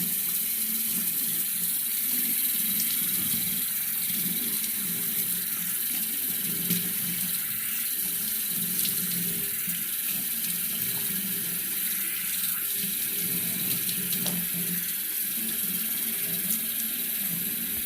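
Steady running tap water splashes continuously into a sink while a lip tattoo is rinsed off, a constant close wash with no talking.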